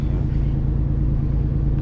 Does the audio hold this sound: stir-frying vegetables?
no